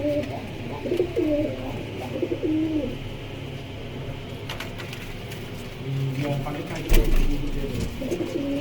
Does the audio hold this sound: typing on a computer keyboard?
no